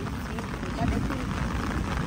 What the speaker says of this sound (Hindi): अभी रुक जाओ बारिश